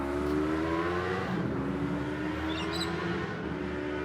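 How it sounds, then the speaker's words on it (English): A noisy motorbike passes on a hillside street in Swan View, Perth, its engine drone rising and shifting in pitch as it goes by, loud and steady against faint birdsong. "that's a bit of a noisy motorbike."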